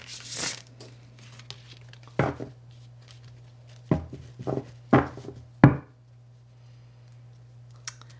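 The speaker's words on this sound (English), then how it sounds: "One last regular shuffle and then I'll freestyle it." Tarot cards shuffled by hand in a few separate crisp bursts of riffling and slapping, spaced out over a steady low hum, with quiet gaps between them.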